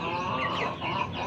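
Young chicks, recently given deworming medicine, cluck and peep in a busy overlapping chorus, close and steady, with bright chirps riding over a constant low murmur of the flock.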